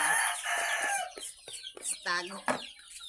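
Chickens and broodcock roosters cluck and crow nearby on a farm, with overlapping calls and one drawn-out crow, while a voice talks faintly underneath.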